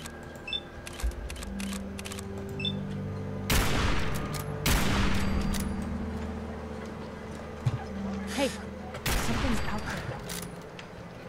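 Gunshots ring out in the Fallout 4 video game as sharp, loud bangs, three or four of them spaced a few seconds apart, each trailing off in echo, under in-game ambience and scattered small effects.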